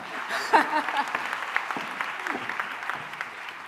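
An audience claps steadily throughout, a dense sustained patter of applause at moderate loudness.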